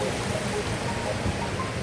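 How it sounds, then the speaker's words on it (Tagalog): Light drizzle falling outdoors in a rural province setting, a steady, soft hiss of rain spread evenly with faint low rumbles underneath, no voices over it. "umaambon."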